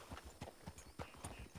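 Horse hooves clip-clop in a steady trotting rhythm in Red Dead Redemption 2, moving around barrels set up in a figure eight, close and clear with faint low background sound.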